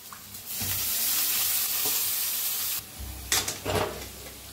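Soaked moth bean dal roasting in hot oil, a steady broadband sizzle with scraping stirs and louder bursts of frying near the end, close and alone.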